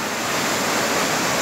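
A waterfall pours into a natural pool, heard close and loud as a steady, dense roar of rushing water with no breaks and no voices.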